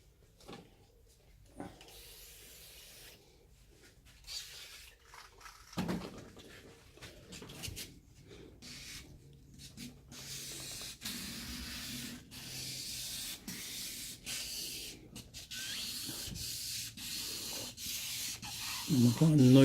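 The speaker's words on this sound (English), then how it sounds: "I'm applying no pressure, I'm just letting the sandpaper do the work." Sandpaper worked by hand over runs in a car's clear coat, a steady close rubbing hiss with repeated strokes that grows denser and louder over time, no talk.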